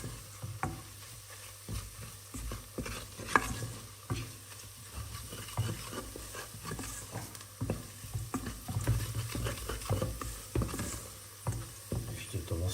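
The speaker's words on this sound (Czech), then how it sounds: "zase pomaloučku si z toho udělám takovou jížku. Trošku to orestuju" Flour roux sautés and is stirred in a pan, giving a soft steady sizzle broken by repeated scraping and tapping of the spoon, close and moderately quiet throughout.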